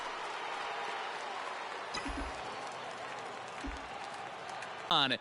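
A baseball stadium crowd at a 2020 NL Wild Card game swells into a broad roar and cheering after a near home run that curves foul, steady and distant-sounding, with a couple of thuds and a brief whistle-like squeal at the end.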